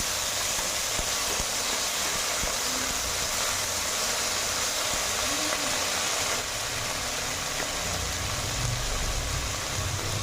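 Tomato and chili paste hits reddened fried onions in a pan for a potato egg omelette curry, giving a loud, steady, unbroken sizzling hiss.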